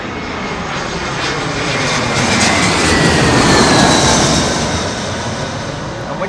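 Aircraft engines roar continuously at London Heathrow Airport, a loud broad jet rumble that swells slightly toward the middle and stays steady throughout with no voices.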